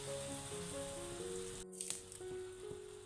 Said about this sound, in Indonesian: bumbu kita tumis ya.